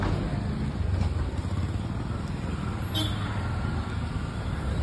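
Road traffic hums steadily in a busy street as a vehicle pulls in, with a continuous low engine and tyre rumble and a faint hiss, moderately loud throughout.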